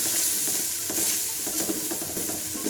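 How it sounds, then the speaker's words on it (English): Chettinad masala powder stirred in a hot pan for chicken curry: a constant close sizzle with soft, rhythmic spatula scrapes and no speech. "So just give it a good stir."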